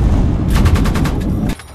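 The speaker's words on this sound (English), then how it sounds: "This is a 50 caliber machine gun" A 50 caliber machine gun in a war zone in Afghanistan lets off a rapid, loud burst of heavy rounds close by, following a dense roar and cutting off abruptly.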